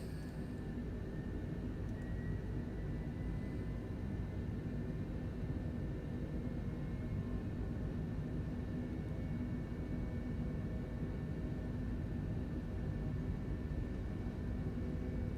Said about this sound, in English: Cleared for takeoff, so I might as well just roll out.